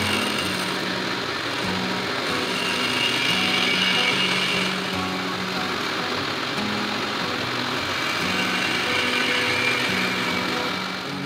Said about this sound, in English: I'm going to mill those sections on the mill to get that nice mating surface